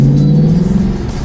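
A Lexus IS-F V8 with an eight-speed automatic revs under acceleration, giving a steady, loud, close low rumble that holds for the whole moment with no talk.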